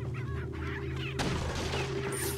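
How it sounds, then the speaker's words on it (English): A chicken clucks in Resident Evil 4 against a constant low game hum, and a louder burst of noise cuts in halfway through. "I don't want to hurt you, chicken."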